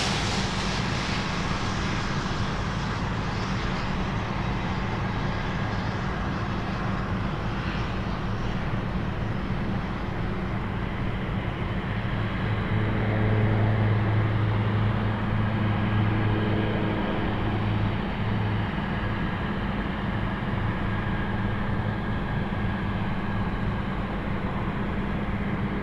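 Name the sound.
UPS 105 cargo plane arriving from Osaka at Anchorage airport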